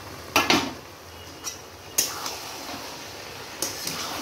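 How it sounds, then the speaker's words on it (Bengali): Prawns and ash gourd curry are stirred in a pan, with a few sharp metallic scrapes and clinks of a utensil against the pan spaced out over a quiet background, close by and without speech. "একটু নেড়ে চেড়ে দেব।"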